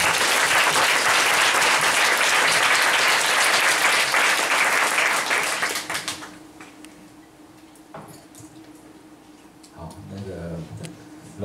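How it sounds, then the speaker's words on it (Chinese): Loud audience applause at a seminar or lecture, thanking a teacher for their work, sustained for about six seconds before dying away into quieter room noise with a voice speaking near the end. "再次掌声"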